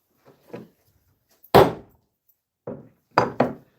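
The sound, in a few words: hammer striking metal letter stamps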